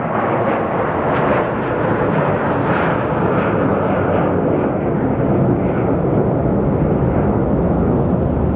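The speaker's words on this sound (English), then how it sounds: "So we have our Delta A350." The engines of a Delta Airbus A350 airliner at Phoenix Sky Harbor Airport give a loud, steady broadband roar that holds without a break from start to finish.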